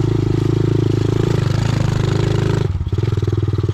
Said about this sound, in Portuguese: Não vou desligar a moto, tá ligado, galera?